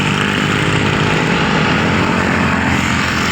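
Close and loud, a big airplane engine drones in a constant rumbling roar with a pulsing, propeller-like throb, unbroken for the whole stretch.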